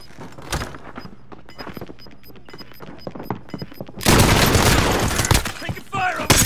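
Rapid gunfire in Call of Duty Warzone, sharp scattered shots and bursts that swell into a loud, dense barrage of automatic fire in the final seconds, close and harsh.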